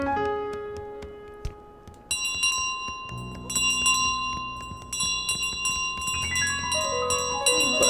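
Bright, ringing bell tones in Untitled Goose Game, struck repeatedly in irregular clusters, with lingering metallic overtones and a chiming piano-like musical backdrop, no talking.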